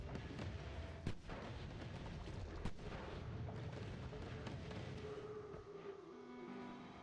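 Spell shots from a wand in the Noita video game fire as two sharp booming bursts over a dense rumbling game soundscape, quiet overall.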